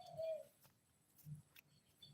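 Pigeons coo faintly in a quiet outdoor setting, with two soft, low coos about a second apart and a few light chirps and rustles between them.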